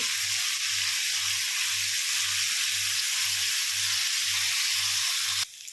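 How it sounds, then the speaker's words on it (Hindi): Jackfruit pieces fry in hot oil until golden brown for a potato and jackfruit curry, a constant close sizzle with a faint regular low pulse underneath, cutting off abruptly near the end. "तेल हमारा गर्म हो चुका है, उसमें हम कटहल को ऐड कर लेंगे। कटहल को हम गोल्डन ब्राउन होने तक अच्छे से भूनेंगे।"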